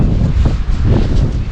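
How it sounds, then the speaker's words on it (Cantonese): Strong seaside wind in Folkestone buffets the microphone with a continuous loud low rumble and gusty roar, with no voices. "今日真係好大風啊！"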